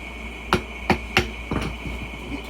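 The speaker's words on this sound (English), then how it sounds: "So why you gotta use the hammer?" A hammer strikes a tire to break the bead during a manual tire teardown: three sharp, evenly spaced blows, then a looser clattering knock, fairly close and distinct over a low background hum.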